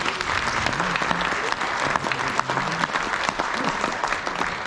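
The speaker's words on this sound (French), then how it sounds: "vous pouvez l'applaudir" An audience at a choir event applauds a deputy, steady close clapping throughout with a faint hum of the room beneath.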